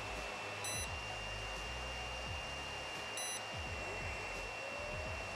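A Torras Coolify 3 neck fan runs with a steady, even whir, joined by a high tonal whine and two short electronic beeps as its settings change.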